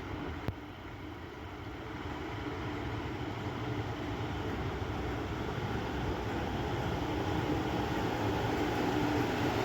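Steady rumble of a passenger train on a Cornish branch line, heard from inside the carriage as a continuous low drone with faint rail noise, no voices.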